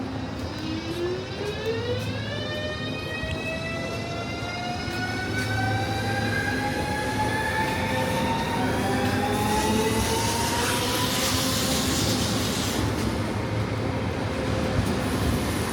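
A metro train runs steadily through the whole span, a continuous loud rumble with rising and falling whine tones as it accelerates and cruises, and no voices over it.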